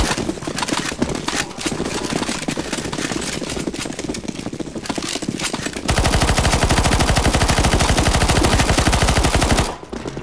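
Automatic gunfire aimed at zombies in CS:GO Zombies, loud rapid bursts of shots with a dense, fast, unbroken volley near the end before it cuts off.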